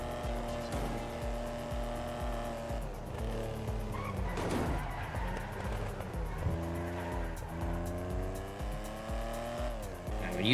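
A car in GTA drives with a steady engine drone, then the throttle lifts and the revs fall and rise again with a rough, burbling tone, tire noise mixed in, all close and continuous, with no clear speech.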